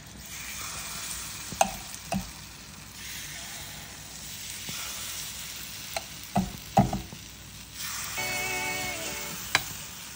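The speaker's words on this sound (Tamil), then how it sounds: "இதே மாதிரி கொஞ்சம் கொஞ்சமாக ஆயில் ஊற்றணும்" Oil trickles into a hot kuzhi paniyaram pan, bringing a steady sizzle with several sharp ticks and clicks of a utensil, and the frying hiss swells louder near the end.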